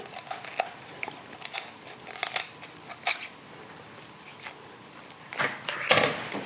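Poultry shears cutting through a raw chicken to quarter it, a series of close, sharp crunching snips and cracks at uneven intervals, with a louder crunch near the end and no talking.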